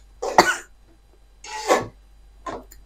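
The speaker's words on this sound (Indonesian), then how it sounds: "Batuk." Three separate coughs, close and fairly loud, spaced about a second apart with quiet in between.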